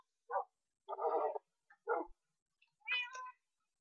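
Dogs in the video game Minecraft give several short barks and whines, spaced apart and clean against a silent background.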